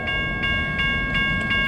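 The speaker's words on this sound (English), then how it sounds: "You can see a train down there coming." Freight train rumbling toward a crossing on a cold night, steady low rolling drone with a sustained horn-like tone over it, fairly near and continuous.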